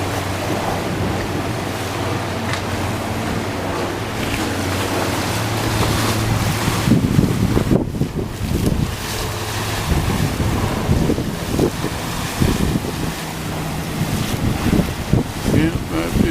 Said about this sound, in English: Yeah, that is a pretty good amount of wave action.